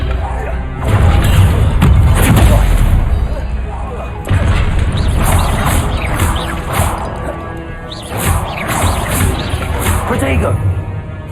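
Spell explosions from Confringo in the Hogwarts Legacy video game, loud repeated blasts and crashes in a busy combat mix with shouted spell incantations over the top.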